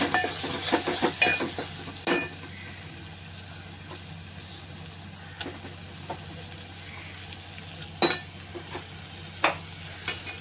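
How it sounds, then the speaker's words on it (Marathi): Ground masala for mutton curry being fried and stirred in a pan, a soft low sizzle under intermittent scraping and clinks of the spoon against the pot, close up with no speech. "ह्या मसाल्याला तेल सुटेपर्यंत भाजा व्यवस्थित."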